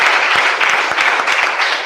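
Steady applause from an audience at a church gathering fills the whole stretch, dense and continuous with a few sharper individual claps poking through.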